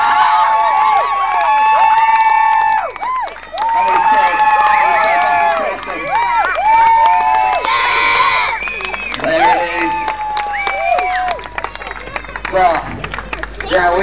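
A crowd cheers and shouts at a mountain bike skills show, with loud overlapping whoops and excited voices rising and falling throughout, some scattered clapping, and a high shriek near the middle.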